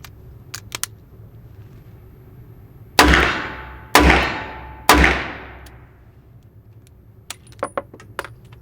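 Spent cartridges clattering out of a break-open Webley revolver, then three sharp metallic clanks about a second apart as rounds are reloaded, with faint clicks and taps before and after.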